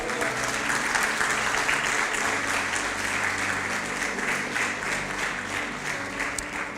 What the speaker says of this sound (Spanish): Yo le daría un aplauso al Señor, ¿sabe?